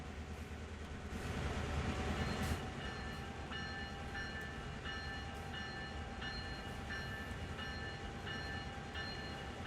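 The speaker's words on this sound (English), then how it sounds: "open the window so you guys can hear the sounds of the engine." A train locomotive in Train Sim World 2 on the Horseshoe Curve rumbles steadily, its low engine drone joined by faint metallic clicking and brief tonal squeals, continuous and unbroken with no talking.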